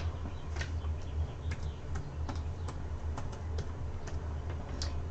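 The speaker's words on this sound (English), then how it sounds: "I'm typing the names as I see them." Computer keyboard typing in a quiet room, soft irregular key clicks tapping steadily over a low background hum, with no talking.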